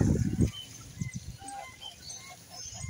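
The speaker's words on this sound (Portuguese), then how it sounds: "Os ganso." Geese honk in a short, loud burst of calls near a pond where ducks bathe, then fainter scattered honks against quiet outdoor background.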